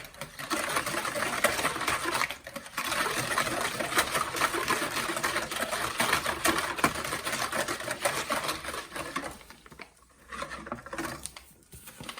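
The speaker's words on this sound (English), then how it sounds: "Three tablespoons of white sugar. And give that a whisk." A steady, rapid whisking of white sugar in a bowl, close and continuous with brief pauses, a busy metallic rattle with no one talking.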